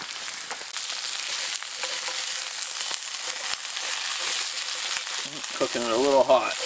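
Thick, well-marbled ribeye steaks fry hot over a campfire in the winter woods, giving a loud, steady close-up sizzle and crackle throughout, with a brief voice near the end.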